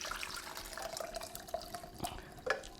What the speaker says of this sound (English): we're just going to very carefully pour it into this pan.